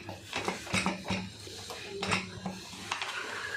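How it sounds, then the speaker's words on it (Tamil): A metal pressure cooker holding rice is shut, with a few sharp clinks and scrapes of lid against pot spaced irregularly over quiet kitchen background. "இருக்கும் சாப்பாட்டுக்கு குக்கரை போட்டு மூடிட போகிறோம்"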